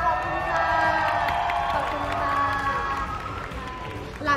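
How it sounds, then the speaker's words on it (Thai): A crowd at a Thai press event for a large Korean drama series starring Park Seo-jun and Han So-hee claps and cheers loudly, with voices whooping over steady applause throughout. "ปรบมือส่งดังที่สุดค่ะ"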